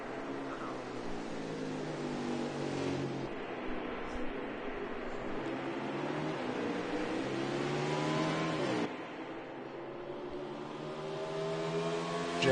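A NASCAR Winston Cup stock car climbs the uphill back straightaway at Canadian Tire, its engine droning loud and steady with rising pitch, then two distinct upshifts partway through as it accelerates through the gears.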